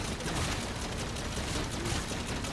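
Continuous rapid gunfire in a Call of Duty zombies match on the Shaolin Shuffle map, a dense unbroken stream of shots filling the whole moment, fairly loud with no voices.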